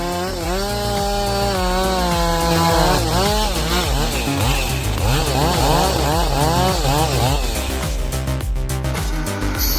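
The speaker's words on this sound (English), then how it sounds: "With just one chainsaw, a 31-inch tree trunk is quickly split in half." A chainsaw cuts through a 31-inch tree trunk, its loud engine roaring without a break while the pitch climbs and dips under changing load, close by and alone.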